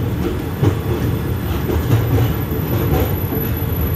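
A passenger train rolls along steadily toward the Pamban sea bridge in India, with a continuous low rumble and rhythmic clatter of wheels on the rails, loud and close, no voices.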